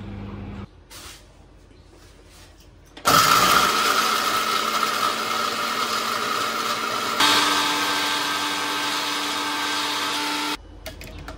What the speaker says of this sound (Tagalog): I-blender na ba natin siya ngayon?